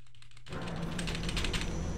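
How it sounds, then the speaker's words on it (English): A computer keyboard clacks in a quick, dense run of close keystrokes during a video game, starting abruptly after a brief quiet moment. "I don't know if you can actually hear my keyboard clacking every time I move"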